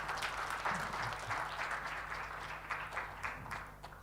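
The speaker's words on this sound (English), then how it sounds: "Please give a big applause to Dr. Rohadi Awaludin" Applause from the audience at an international science and technology conference, a soft, distant and even patter of many hands that fades slightly toward the end.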